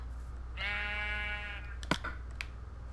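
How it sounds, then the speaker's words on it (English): A sheep in the video game Minecraft gives one clear, wavering bleat lasting about a second, followed by a few sharp clicks like keyboard taps over a low steady background hum. "Oh, there's a sheep. Sheep, do you like seeds?"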